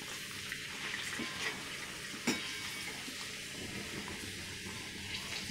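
Puris for panipuri frying in hot oil make a soft, steady sizzling hiss that stays fairly constant, with one small pop partway through.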